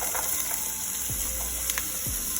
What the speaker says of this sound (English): Come through, sizzle.